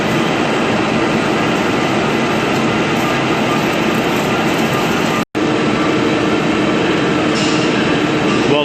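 Lathe turning Nimonic alloy with no chatter, a loud, dense, continuous cutting roar throughout, broken only by a brief dropout near the middle, with no talk.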